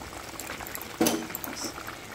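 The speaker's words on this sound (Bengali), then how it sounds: "2 থেকে 3 সেকেন্ডের মতো একটু ফোটাবো" Paneer curry bubbling as it boils in a pan, a close, soft, continuous simmer with a brief louder burst of bubbling near the middle and no one talking.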